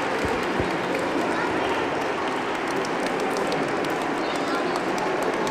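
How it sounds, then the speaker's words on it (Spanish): A crowd at a school Christmas carol festival gives loud, sustained applause, a dense continuous roar of clapping that fills the hall at steady volume throughout. "dos fuertes aplausos"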